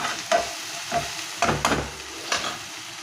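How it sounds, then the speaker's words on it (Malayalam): Onion, garlic and ginger with salt frying in a pan, a soft continuous sizzle broken by several close scraping stirs of a spatula, spaced irregularly, with no voices. "ഉള്ളിയും വെളുത്തുള്ളിയും ഇഞ്ചിയൊക്കെ ഒന്ന് വാടി കിട്ടാൻ വേണ്ടി നമുക്ക് ഉപ്പും കൂടി ഇട്ട് കൊടുക്കാം"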